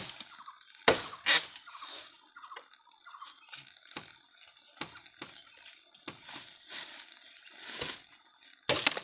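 Water dripping and splashing from a cut bamboo stalk outdoors, with irregular drips and sharp splashes scattered across the clip, some louder impacts near the start and end.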